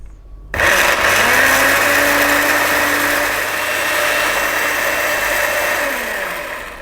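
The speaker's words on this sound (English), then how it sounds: "I'm going to give that a little whiz up" Blender grinding garlic, ginger and lime into a green chutney paste, a loud steady whirring motor starting abruptly and running continuously, easing slightly toward the end.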